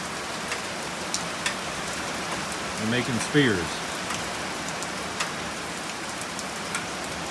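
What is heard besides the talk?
rain falling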